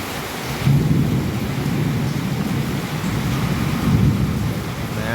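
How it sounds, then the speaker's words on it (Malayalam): Loud, steady rain falls throughout a thunderstorm, with deep rolling thunder rumbling underneath and swelling noticeably in a few places. "മഴ ചെറുങ്ങനെ കുറഞ്ഞു, പക്ഷേ ഇടിക്കും മിന്നലിനൊരു കുറവില്ല കേട്ടോ"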